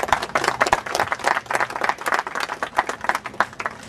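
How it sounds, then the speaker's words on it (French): An audience claps enthusiastically at a park inauguration, a rapid irregular patter of many hands close by, sustained throughout. "et on peut les applaudir,"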